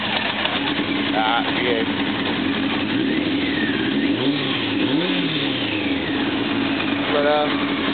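A 1995 Honda CBR900RR motorcycle engine idles steadily nearby, rising into a few throttle revs midway through, with someone talking briefly over it.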